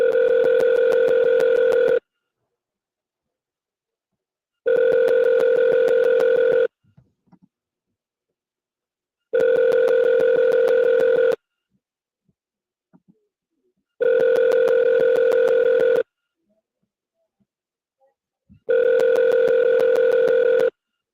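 Outgoing call ringback tone, a steady dual-pitched electronic purr in five evenly spaced bursts of about two seconds, separated by longer silent gaps, clear and close with no talking.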